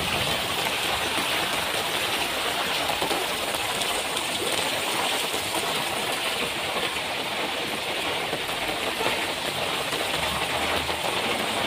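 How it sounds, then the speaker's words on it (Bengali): Heavy, nonstop rain pours onto a field flooded knee-deep, a dense, even roar of falling water that stays loud and unbroken throughout, with no voices. "এত বৃষ্টি হইতেছে যে আমার হাতির ভিতর দিয়ে পানি আমার গায়ে পড়তেছে"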